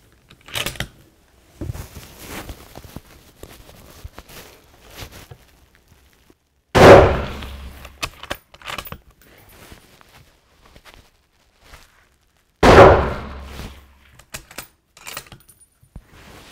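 Two loud, sharp rifle shots several seconds apart while sighting in a rifle with a Steiner Ranger 6 scope, each followed by a short decay, with clicks and handling noises of gear in between.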